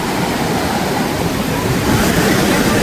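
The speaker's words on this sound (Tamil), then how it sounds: "கடல் பயங்கர உரப்பாக இருக்குது," Rough sea waves pound the Sri Lankan coast, a loud, continuous roar of surf and churning water, close and unbroken, with no clear speech over it.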